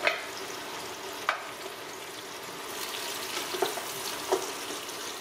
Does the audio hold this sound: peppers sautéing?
yes